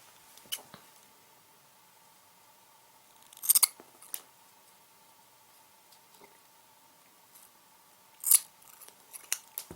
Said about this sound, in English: So we can cut off any excess .